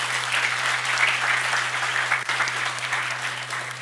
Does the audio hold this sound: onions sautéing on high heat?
no